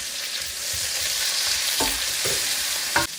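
Garlic, onion and carrots sautéing in oil in a pan, a dense hissing sizzle held steady throughout, broken by a few soft thuds and clinks of stirring near the end.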